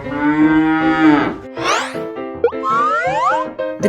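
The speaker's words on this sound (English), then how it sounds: "This is a cow." A cow lets out a loud moo on a children's farm-animal lesson, set among cheerful music and springy cartoon sound effects.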